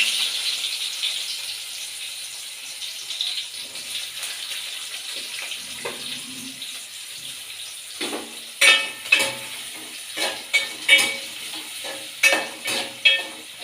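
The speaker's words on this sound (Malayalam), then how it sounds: "സവാള ഇട്ടിട്ട് നല്ലോണം ഇളക്കി കൊടുക്കുന്നുണ്ട്." Sliced onions fry in a pan after mustard seeds, giving a steady hiss that builds into repeated sharp scraping and clattering stirring strokes in the second half, close and loud with no talking.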